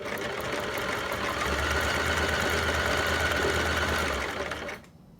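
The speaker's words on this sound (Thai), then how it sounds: "เริ่มต้นที่ปักเข็มลงแล้วก็ เย็บหมายเลขหนึ่งค่ะ" A ZEN ZN1101 sewing machine running a straight stitch, a steady close mechanical whirring hum that holds for about four seconds before cutting off into quiet, with no talking.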